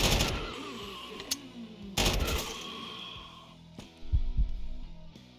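Gunfire in the video game Quasimorph: several sharp, loud shots cut through the game's background sound, with a dense burst at the start and more shots spread across the rest.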